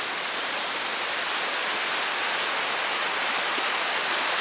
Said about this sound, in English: And there is the flow coming down from the top of the Himalayas.